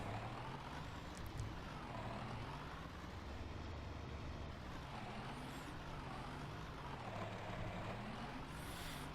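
A John Deere tractor engine in Farming Simulator 19 drones steadily at a moderate level, a low continuous rumble with slight pitch swells as it works.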